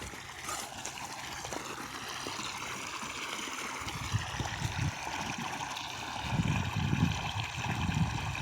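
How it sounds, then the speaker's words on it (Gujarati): Canal water flows and splashes down into a farm well, a faint steady trickling and gurgling with some low, louder surges toward the end. "જો પાણી આવે છે કેનાલનું, અહીંયા પડે કૂવામાં"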